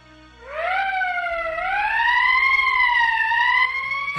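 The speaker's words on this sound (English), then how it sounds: "That's the emergency siren." Emergency siren in the video game Valkyria Chronicles, a single loud electronic wail rising and holding a steady tone for several seconds, with no voices.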